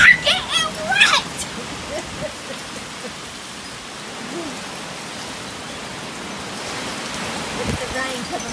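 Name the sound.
heavy rain blowing in strong wind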